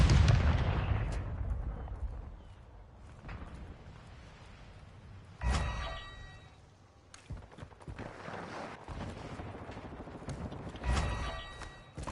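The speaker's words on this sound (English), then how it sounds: "Throwing grenade!" A grenade blast in a modern military first-person shooter game, heard as a loud low boom near the start that fades out. Several further sharp detonations and bursts of gunfire follow, spaced irregularly, with no talking.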